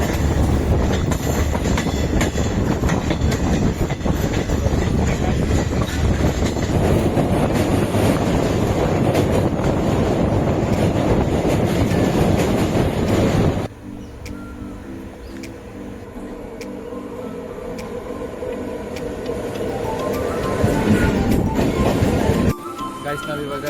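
A passenger train from Mysore toward Bangalore rumbles loudly and steadily with clattering wheels, then the noise drops sharply to a quieter, steady background hum halfway through before swelling again near the end.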